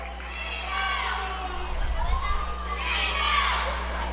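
A basketball crowd at an Anderson County game reacts to a foul call with a swell of mixed shouts and murmurs, moderately distant, rising and falling across a few seconds.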